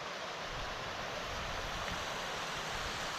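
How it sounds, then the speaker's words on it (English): Cascading water rushes along the upper reaches of the East River Allen in a wooded valley, a constant, even broadband roar heard alone and without pause. "we've got a scene of some really nice cascading water. This is the upper reaches of the East River Allen"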